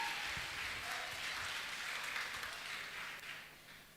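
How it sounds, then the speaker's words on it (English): Clapping from a church audience at a Don Bosco dance event in Nashik, a continuous even patter of many hands that holds steady and then slowly fades toward the close. "a big round of applause"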